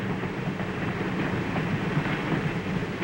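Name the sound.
locomotive pulling passenger train starting slowly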